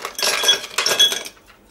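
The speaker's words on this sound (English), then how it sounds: "you want a highball glass. And you want to put ice cubes in it" Ice cubes clink and rattle into a highball glass for a Bullfrog cocktail, two quick bursts of bright glassy knocks close up, then settling to quiet.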